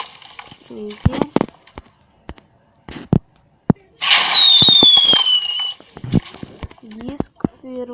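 Scattered Minecraft firework pops and crackles, then a long whistling launch, with occasional talking in between.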